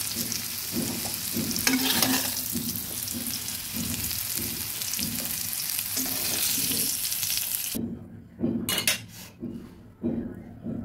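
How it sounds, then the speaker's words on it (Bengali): Potatoes fry in oil over low heat with a steady, dense sizzle for most of the stretch, then the sizzle drops away near the end, leaving a few clinks and scrapes of utensils against the pan. "হালকা আঁচে ভেজে নিচ্ছি"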